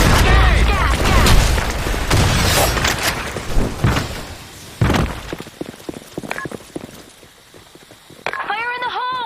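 Grenade blasts in a video game multiplayer match thump out as several heavy booming bursts amid gunfire and chaotic game noise, with voices shouting over the action.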